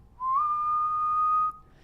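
A person whistles one steady, clear tone held for over a second, close and alone, used to trigger an Arduino whistle-controlled circuit.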